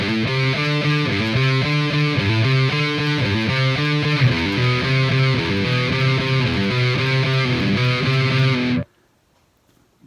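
Distorted electric guitar plays a repeating riff with steady, punchy notes for several seconds, then cuts off abruptly into silence.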